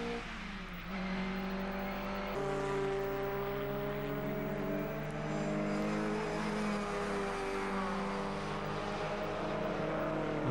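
A Mini GT racing car at Castle Combe circuit in a saloon car championship race drones past with a sustained engine note that shifts pitch midway, moderately loud and steady throughout.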